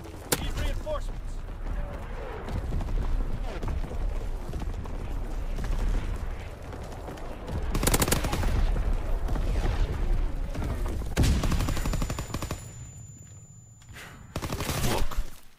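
Heavy artillery fire from a primary battery in a shooter video game, rumbling booms and gunfire sustained for long stretches with a sharp final burst near the end.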